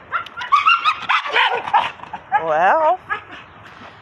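A shelter dog barks and whimpers close by in a kennel setting, several sharp yips followed by a drawn-out whine, with a person speaking briefly alongside.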